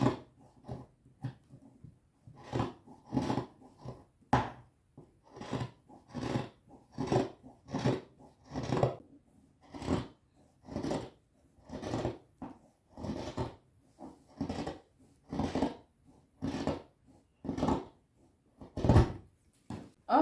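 Scissors slice through folded Kente fabric in a steady series of soft, close snips, roughly one per second over about twenty seconds, quiet and alone with no talking.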